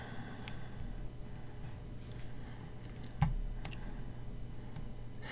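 A computer mouse clicks a download button, giving a couple of faint, sharp clicks over a low steady room hum.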